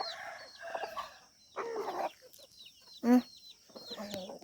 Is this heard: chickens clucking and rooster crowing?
yes